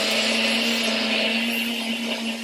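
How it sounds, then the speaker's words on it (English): A Nutribullet blender whirs steadily as it blends a protein shake with peanut butter, a loud continuous motor drone with a strong low hum that holds unbroken from start to end, with no talking. "go ahead and put it in my Nutribullet."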